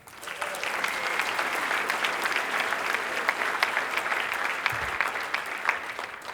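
An audience at a Rotary debate claps steadily and evenly for several seconds, a dense, continuous applause that stays at an even level throughout.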